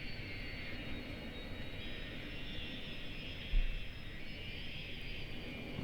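Airplanes fly over an airfield in the city-building game Cities: Skylines, a continuous jet-engine drone, loud and steady with a slight swell, heard alone without speech.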